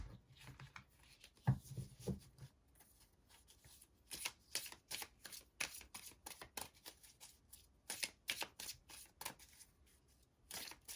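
Tarot cards are shuffled by hand in repeated quick riffling bursts, close and crisp, with short pauses between bursts and a soft thump early on.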